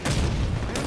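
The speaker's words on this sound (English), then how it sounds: "Tossing a nade." A thrown grenade explodes in Halo Infinite, a sudden, loud booming blast with a dense rumbling tail lasting under a second.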